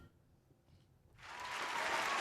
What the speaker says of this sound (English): round of applause for everybody that's in the room